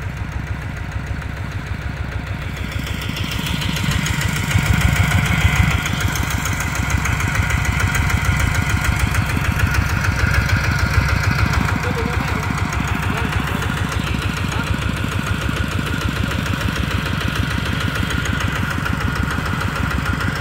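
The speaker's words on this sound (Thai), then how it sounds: "พี่ดำใส่เกียร์โลอ่ะ" A Kubota RT155 walking tractor churns through muddy paddy-field ground, its engine chugging steadily and loudly close by with a rough, knocking rhythm throughout; voices talk faintly beneath it.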